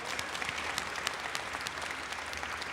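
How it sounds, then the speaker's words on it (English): An audience at a mayor's press conference for a trans flag raising applauds, a steady patter of clapping that sounds fairly soft and somewhat distant and carries on for the whole moment. "So let's give all of you a round of applause."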